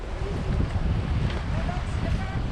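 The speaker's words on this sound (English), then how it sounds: "I can hear him opening up the engine a little more." A sailing boat's engine drones and rumbles steadily in Greece beneath heavy wind buffeting, with the motor sound swelling slightly as it revs.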